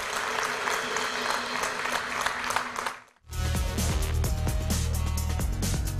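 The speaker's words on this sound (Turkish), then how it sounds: "Alkışlarla onları buraya alalım." Studio audience applause on a Turkish TV talk show as candidates come on stage, a dense steady clatter of clapping that gives way after a brief dip to bright music with a strong beat.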